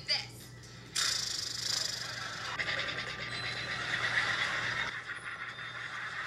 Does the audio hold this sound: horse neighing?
yes